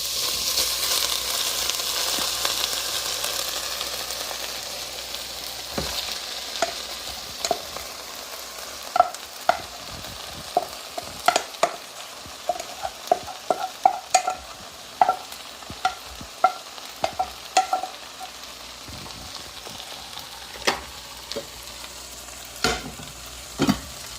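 Sausage frying in an oversized pot, with steady sizzling and scattered scraping clicks as it is stirred, loudest at first and then settling into sharp intermittent knocks.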